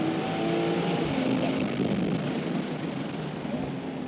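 A Porsche 992.2 Carrera T on Cup 2 tires drives a race track, a loud, sustained engine and road roar with faint shifting tones, heard steadily from inside the car without talk.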